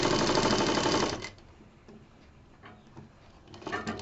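A sewing machine stitches a patchwork bed cover with a fast, loud, steady whir for about a second, then stops, leaving faint handling clicks and rustles.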